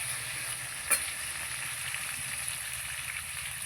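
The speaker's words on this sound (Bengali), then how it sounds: "পেঁয়াজ আর আলু একসঙ্গে ভেজে নেব।" Potatoes and onions frying together in a pan, a steady close sizzle with one brief clink near the start and no voices.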